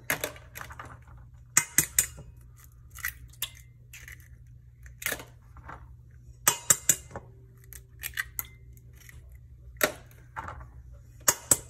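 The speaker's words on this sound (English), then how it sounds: "We're gonna just crack our eggs in a bowl." Eggs cracked one after another into a bowl: sharp, sparse taps and cracks at irregular intervals against a quiet background hum.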